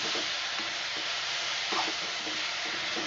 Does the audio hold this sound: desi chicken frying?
yes